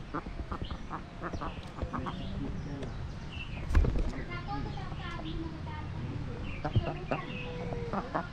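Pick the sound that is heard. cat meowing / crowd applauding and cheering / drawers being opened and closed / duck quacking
duck quacking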